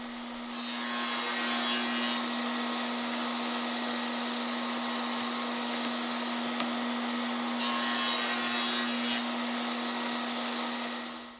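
A radial arm saw cuts spline slots into picture frame corners. A steady, high motor whine runs throughout, rising into two harsher bursts of blade cutting near the start and again later.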